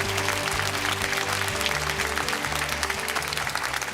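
A studio audience at a Korean 500-member citizens' assembly on electoral reform bursts into thick, steady applause that carries at full strength throughout, over a low hum.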